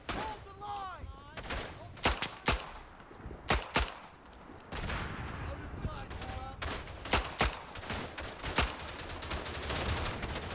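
Sharp single shots crack out one after another in Verdun, a First World War shooter, as a handgun is fired on a Belgian battlefield. Louder machine-gun bursts and distant shots add to the din.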